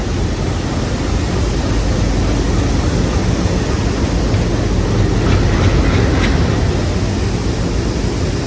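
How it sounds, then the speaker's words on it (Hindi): The GT Express pulling out of Gwalior Junction, a loud, steady roar of rolling wheels and carriages with faint rhythmic clatter, continuous and close, with no talking. "ये जो है अंग्रेज़ों के ज़माने की train GT express Gwalior junction से डिपार्ट हो चुकी है"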